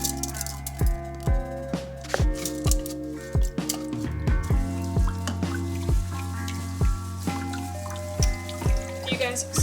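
Water drips and trickles steadily off rinsed rice, with repeated small splashes over a running, watery background and low resonant tones.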